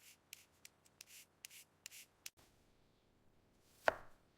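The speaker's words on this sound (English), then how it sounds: "I'm slicing the cucumbers." Cucumbers sliced with a knife in a kitchen, a quick run of crisp, evenly spaced cuts close by, followed by a pause and one sharper knock.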